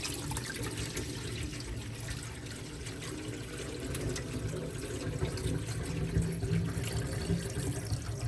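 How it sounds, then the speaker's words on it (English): Clear tap water runs steadily into a kitchen sink as raw beef is rinsed for a Caribbean-style beef stew, a continuous close splashing flow with no speech. "we do like another rinse with clear water"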